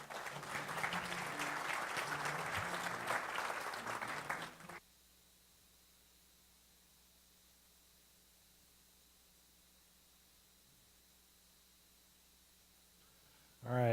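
An audience at a keynote applauds briefly, with dense clapping for about four seconds that cuts off abruptly into near-silent hiss.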